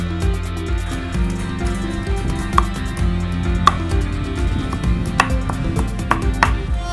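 Ginger and garlic pounded in a home kitchen, a run of repeated rhythmic thuds and knocks with sharper clacks scattered through, close and alone without talk.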